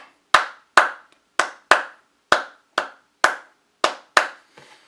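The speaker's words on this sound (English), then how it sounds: "the clave rhythm again, we have the 3-on-2 or the 2-on-3." Sharp hand claps in a 3-2 clave rhythm, ten crisp strikes in two groups with short gaps between, loud and close with no voices.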